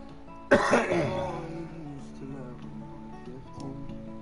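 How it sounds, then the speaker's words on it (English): A man coughs and clears his throat in a sharp burst near the start, fading into a soft, steady background murmur. "Sorry about the coughing, y'all."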